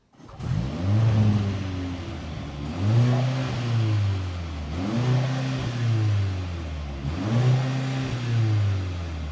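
A Mercedes-AMG C63 engine revs repeatedly in Sport mode, four loud climbing surges with brief dips between, close and unaccompanied by talk.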